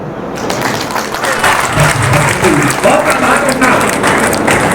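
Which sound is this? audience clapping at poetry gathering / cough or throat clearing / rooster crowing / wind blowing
audience clapping at poetry gathering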